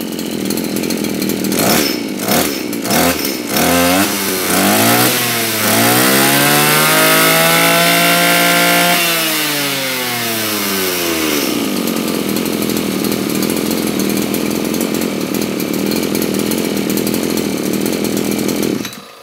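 Maruyama BIGM KC 230RS brush cutter, a 23cc two-stroke engine, revs up and down in loud close sweeps, climbing to a high whine and falling back before settling into a steady run.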